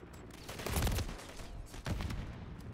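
Muffled gunfire in a video game, where a player is running around with a shotgun. Two dense bursts of blasts sit over continuous game noise, fairly quiet and distant in the mix.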